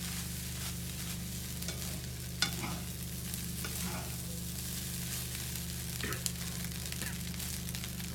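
Egg fried rice with pak choi stirred in hot oil in a pan, a steady close sizzle and frying hiss with scraping stirs and a couple of sharp clinks, no talking.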